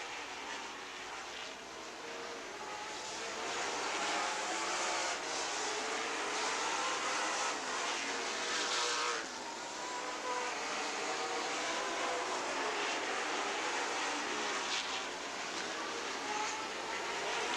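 Super Late Model race cars battle for the lead around Rockford Speedway in Rockford, Illinois, their engines merging into a loud, continuous roar that swells and holds steady throughout.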